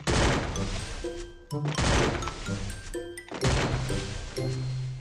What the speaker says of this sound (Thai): เอาปืนกลยิง